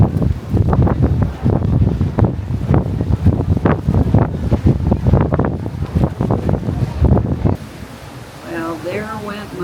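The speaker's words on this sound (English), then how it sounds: "It is really windy. Really windy." Strong wind buffets the microphone on the open deck of a ferry crossing Lake Michigan, loud gusty rumbling and roaring that eases near the end.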